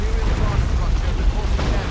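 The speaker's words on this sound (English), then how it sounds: "Orbital bombardment, really nicely aimed on that Knob Squad there" Orbital bombardment blasts in the real-time strategy game Dawn of War 2 make a continuous, loud low rumble of overlapping explosions that persists throughout, with no distinct individual bangs.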